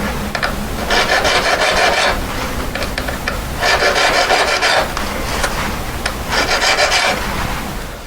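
A hand file rasps across a solid metal ring head being carved for five stones, in three long bursts of close, scratchy back-and-forth strokes separated by brief pauses with lighter scraping.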